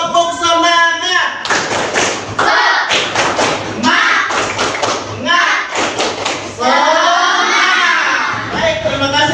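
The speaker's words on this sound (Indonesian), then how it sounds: "Sebelumnya kita tepuk semangat terlebih dahulu, tepuk semangat." Schoolchildren in a classroom performing the rhythmic 'tepuk semangat' spirit clap, loud patterned bursts of clapping and thumps in quick groups, mixed with children's chanting voices throughout.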